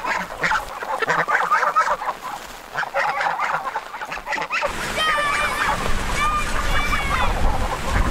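Ducks and geese honk and quack in a noisy outdoor flock during a hurricane, calls overlapping steadily, with rain-like hiss and a louder burst of calls toward the end.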